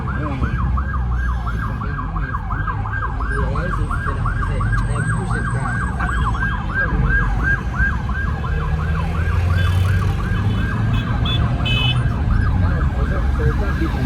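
A loud ambulance siren wails in a rapid, repeating warble, steady and close, with traffic rumble and faint voices underneath, in Ghana.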